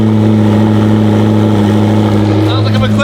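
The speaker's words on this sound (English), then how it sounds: "Ready for an official cold start of the McLaren P1." A McLaren P1 hypercar fires up from cold in race mode, a loud, steady low idle drone throughout with a brief rise in revs near the end.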